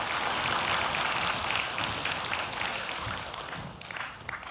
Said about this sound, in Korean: 우리 그분께 영광의 박수 돌리겠습니다.